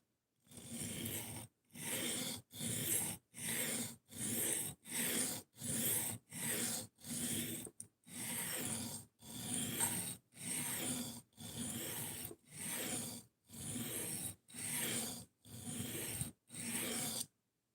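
A pocket knife is drawn over a sharpener in about seventeen even, rasping strokes, each separated by a short pause. The strokes are close and moderately quiet, with no voices.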